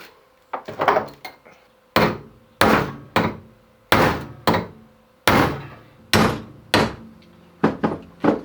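A hammer striking a metal punch to drive the pin out of a Land Rover Defender door hinge, with about a dozen loud sharp ringing blows at an uneven but steady pace, close by.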